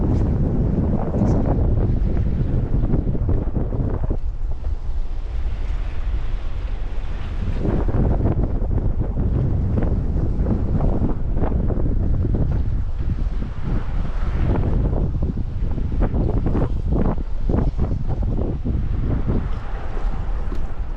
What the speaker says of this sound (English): we just came out here to see how it was, but it's too windy